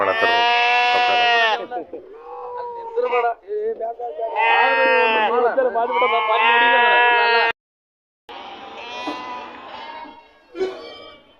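Sheep and goats at the Amingad livestock market in Karnataka bleat loudly and repeatedly, close and overlapping, with one brief lull before the calls resume.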